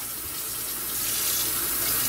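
Cool tap water runs steadily from a faucet into cans to rinse out leftover juice for homebrewing, a continuous hissing splash that rises slightly in pitch as the cans fill, heard alone.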